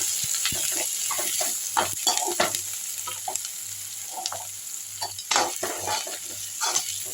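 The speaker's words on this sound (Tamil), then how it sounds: "வெங்காயம் வதக்கிட்டு இருக்கு பாருங்கள்" Steady sizzling of onions frying in a pan for tomato kuzhambu, with a constant crackle and occasional stirring scrapes and light clinks, no voices.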